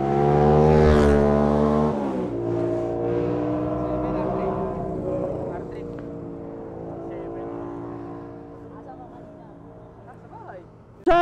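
A Yamaha R7 motorcycle revs loudly on a group ride at Marilaque, its engine note rising and then settling into a steady drone while people talk nearby.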